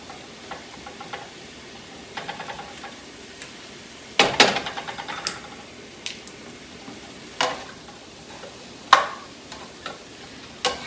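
Spinach and mushrooms cook together in a pan, a faint low sizzle broken by sparse, sharp spatula clacks and taps against the pan, several spaced a few seconds apart, with no voices.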